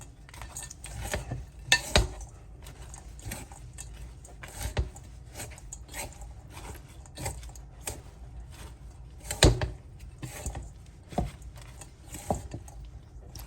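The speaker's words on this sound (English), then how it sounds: "Mix everything together." Cabbage, carrot and beetroot salad with raisins being tossed together in a bowl, giving irregular clinks and scrapes of utensils against the dish, close and fairly quiet, with no talking.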